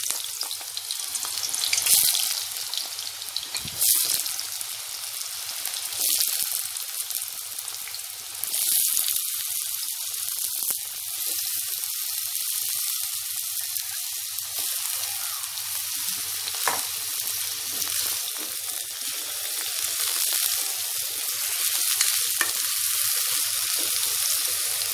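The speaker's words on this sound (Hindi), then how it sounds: "तेल हमारा गरम हो चुका है, मैं इसमें आलू के पीसीज डाल दूंगी।" Potato pieces frying in hot oil for a broccoli sabzi, a loud, sustained crackling sizzle that runs steadily, with occasional sharper pops and stir scrapes.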